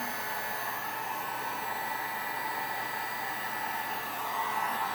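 A heat gun warms HTV vinyl on a stainless steel tumbler, giving a steady, even airy whoosh of blown air at moderate level, unbroken throughout and with no voices.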